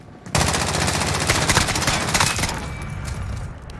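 SKS rifle fire in Modern Warfare multiplayer, a dense continuous burst of loud close gunshots running for about three seconds before easing into a lingering tail.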